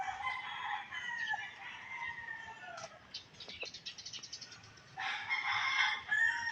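A rooster crows several times nearby, long wavering calls broken by a few short clucks, with no talking.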